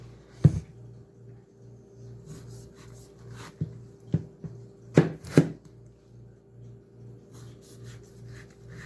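Several sharp knife strikes on a cutting board while fruit is cut during family Christmas food prep, scattered irregular chops over a steady low electrical hum, fairly close and moderately loud.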